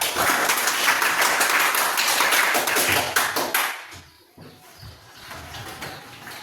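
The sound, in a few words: group clapping the 'tepuk kanan' right clap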